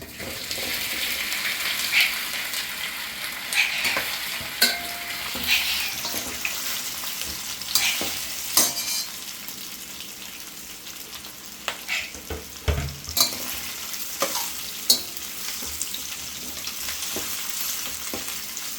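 Methi muthiya, fenugreek dumplings with sesame seeds, dropped into hot oil in a pan, a continuous bright sizzle that swells and fades, punctuated by scattered spatters and clinks over nearly twenty seconds.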